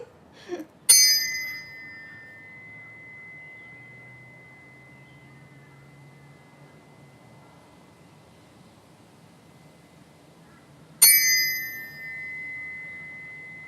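Two sharp metallic bell strikes rung behind a person's ears about ten seconds apart, each ringing out bright and clear before slowly fading into near silence.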